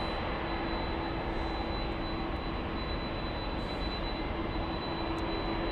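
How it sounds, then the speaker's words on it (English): A Delta Boeing 767 jet at LAX airport gives a loud, steady broadband engine roar with a constant whine, filling the whole stretch without letup. "the 767 you're hearing right now."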